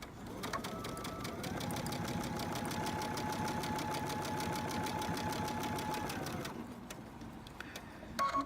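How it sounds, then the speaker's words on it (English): Close and steady, a sewing machine stitches fabric with a rapid, even mechanical chatter lasting about six seconds, then slows and stops, leaving a few soft clicks. "So I'm going to stitch it."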